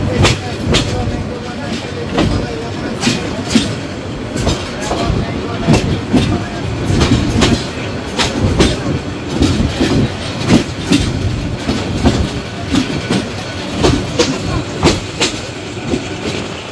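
The Parabat Express rolls into Maijgaon railway station in Bangladesh with loud, rhythmic clickety-clack from its wheels over the rail joints and rumbling wagons. Faint voices are mixed in.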